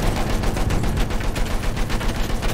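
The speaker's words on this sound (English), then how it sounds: "I'm gonna switch to the chain gun for a while" Chain gun on a tank in Battlefield 1 fires in a continuous rapid burst, loud and close, mixed with ongoing battlefield noise and no talk.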